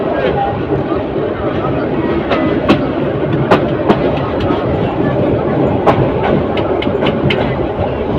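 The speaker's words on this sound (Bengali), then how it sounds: "এখন ভৈরব বাজার জংশন ছেড়ে যাচ্ছে" Titas Commuter train number 35 pulling out of Bhairab Bazar junction, a continuous rolling rumble with sharp, irregular clacks of wheels over rail joints, heard from on board, with speech over it.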